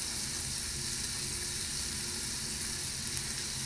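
Onions fry in a pan for chicken cacciatore, giving a dense, continuous sizzle that holds at an even loudness from start to finish with no talking over it.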